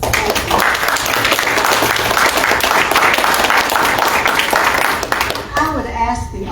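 Audience at a local political candidate forum breaks into loud, sustained clapping that fills the room for about five seconds, then cuts off sharply as a voice begins speaking.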